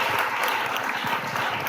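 A church congregation applauds God during a French-language sermon, a dense burst of clapping from many hands that runs steadily throughout, with some voices mixed in.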